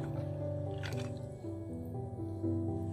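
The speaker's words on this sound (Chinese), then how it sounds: "我們起鍋燒水，然後把這個羊肉涼水下鍋。" Lamb pieces go into a pot of cold water on the stove, making close, wet squishes and small splashes over a steady low hum.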